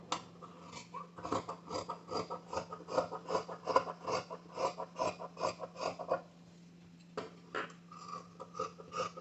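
Scissors snip through fabric while cutting out a kurti sleeve, a close, quiet, steady run of rhythmic crisp cuts with a brief pause before the snipping resumes.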